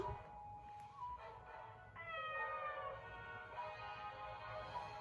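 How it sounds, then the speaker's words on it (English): A cat meows in the farming video game Story of Seasons: Pioneers of Olive Town, a few drawn-out, clear meows, the longest rising then wavering, heard alone and fairly close. "Really? A cat?"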